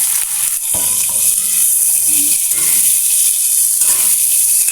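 Onion and garlic sautéed with string beans sizzle steadily in a pan while being stirred. The frying hiss stays close and constant, with a couple of utensil clinks against the pan.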